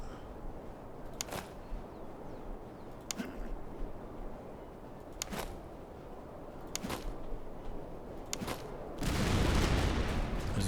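Musket volleys and artillery fire in the Napoleonic-era strategy game Master of Command, a Prussian campaign: separate distant cracks and booms spaced every second or two, then a louder rumbling roar near the end.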